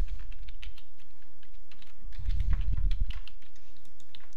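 Rapid keyboard typing as a login email address and password are entered, steady clicking keystrokes close by with a denser burst midway, no voices.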